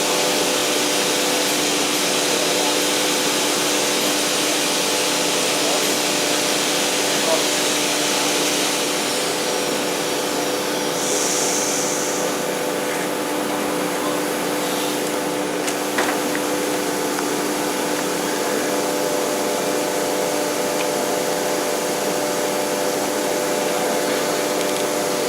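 A CNC machine runs on a SYNTEC control system, with a continuous loud whine and steady tonal hum from the motor and spindle as it moves up toward the tool sensor. The sound holds unbroken throughout, with no voices.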